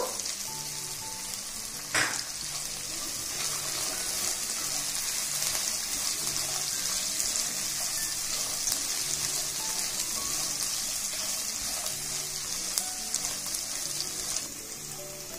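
Sliced onions, green chillies and curry leaves frying in a pan for Rayalaseema uggani, a loud continuous close sizzle and crackle with a sharp clatter early on, steady throughout and free of talk.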